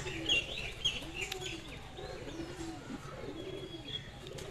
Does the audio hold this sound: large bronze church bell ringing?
no